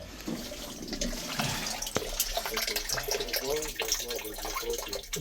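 Water gushing and splashing as it floods out around a water well during a breakdown, a steady rushing wash with voices talking over it.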